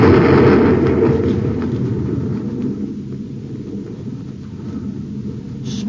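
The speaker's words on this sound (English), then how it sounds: "He fired a torpedo." A torpedo explosion in a radio drama, a heavy booming rumble that starts loud and slowly decays into a long low roar.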